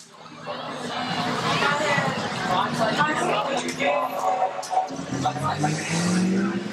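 Stock cars roar away at the start of a 10-lap race, their engines surging loud and continuous while an excited commentator talks over them throughout.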